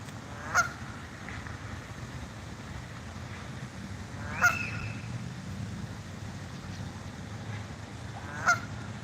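A goose honks loudly three times at wide intervals in Secretariat Park, each call sharp and close over a steady outdoor background hum with no talking.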